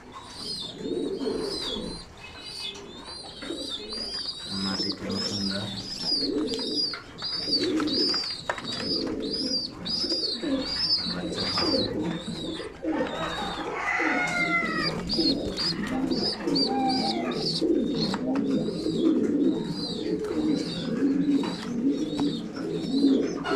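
Pigeons cooing repeatedly in low, rolling calls, with high chirps and twitters running over them throughout; a busy, close flock.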